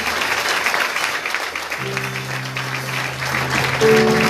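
A church congregation applauds steadily with dense clapping, and sustained low organ-like tones swell in underneath partway through.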